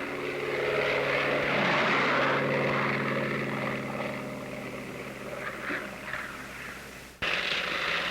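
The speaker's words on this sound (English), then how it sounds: "The Navy Bearcat seemed to be all propeller and engine." A Grumman F8F Bearcat Navy propeller fighter roars with a heavy piston engine and propeller drone, loud and sustained, dipping slightly before a sharp cut and resuming.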